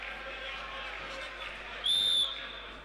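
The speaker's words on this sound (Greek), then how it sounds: "Σφύριγμα για φάουλ του Αποστολίδη που ανέλαβε το μαρκάρισμα του Κόλινς." A referee's whistle sounds once, a short sharp blast at a Greek basketball game between Iraklis and Aris, rising over steady crowd noise and arena ambience.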